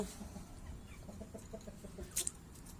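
Soft clucking from a few chickens in the background, with low rumbling ambience and a couple of brief sharp sounds near the end.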